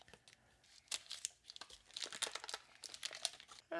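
Plastic packaging around a 2.7-pound corned beef being cut and pulled open, with faint, close crinkling and tearing rustles in irregular bursts and no talking.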